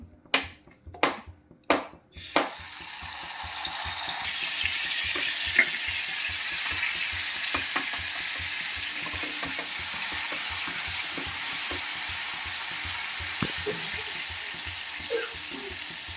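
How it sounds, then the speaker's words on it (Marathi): Crushed green chilli hitting hot oil in a wok for a fasting-day rice dish, a few sharp utensil taps and then a loud, continuous close sizzle with occasional stirring clicks. "कढईमध्ये मी दोन चमचे तेल गरम करायला ठेवलं आता त्यामध्ये घालायचं आहे जी क बारीक करून घेतलेली मिरची आहे"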